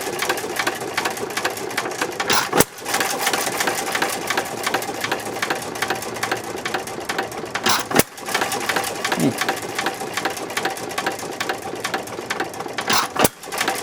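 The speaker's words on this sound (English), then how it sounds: "That's a happy engine there" A 1919 Domestic side shaft hit-and-miss engine runs steadily with a dense, continuous mechanical chatter and knock, close and loud, broken by a few brief pauses, with no talk over it.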